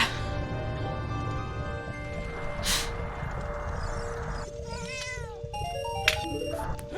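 A cat meows and caterwauls several times behind a steady background of electronic game music and tones, with drawn-out rising and falling cries.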